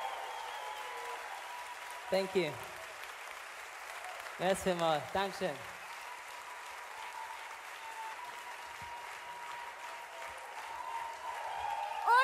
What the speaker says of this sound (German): Applaus an meine Band.